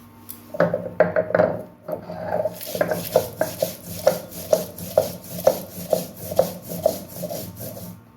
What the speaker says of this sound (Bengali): এই শিলে শুকনো লঙ্কা গোটা জিরে বেটে নেবো